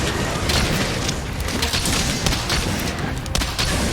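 Bow power shot in Monster Hunter Rise during a fight with Volvidon, a dense, loud burst of layered impacts and booming noise that roars steadily throughout.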